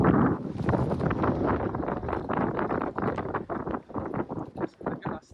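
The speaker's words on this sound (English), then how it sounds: "we were getting hit with such strong gusts that Robbie had to let the jib out completel" Strong gusts batter a sailboat at sea with sail reduced, a continuous loud roar of wind on the microphone that swells and dips in bursts, with voices talking over it throughout.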